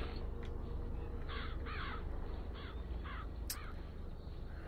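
A murder of crows in BioShock Infinite caws in a series of harsh, separate calls, about six or seven spread across the clip, moderately close over a low ambient hum.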